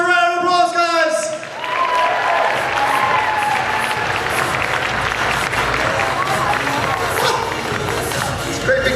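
An audience at a cosplay contest breaks into steady applause and cheering after an announcer's voice, continuing as a dense crowd wash for several seconds.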